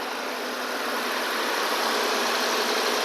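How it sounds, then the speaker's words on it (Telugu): Idling engine of a 2023 Maruti Swift Dzire car, a steady, even hum with broadband noise and no revs, held constant and fairly close throughout with no voices. "ఇంజన్ కూడా చాలా స్మూత్గా ఉంది"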